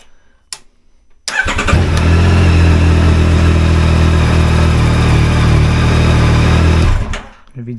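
A used motorcycle's engine starts and runs steadily at a loud, even idle for about six seconds before cutting off, heard up close while it is checked for battery charging during a second-hand purchase inspection.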